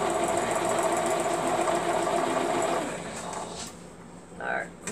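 A sewing machine stitches quilt binding down on a scalloped quilt, its steady, close mechanical whir running for about three seconds before it stops, leaving a quieter room.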